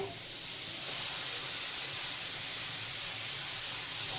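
Chopped mutton fat hits a hot pan with kabuli chickpeas, bursting into a steady, close hissing sizzle that swells after the first second and holds on evenly.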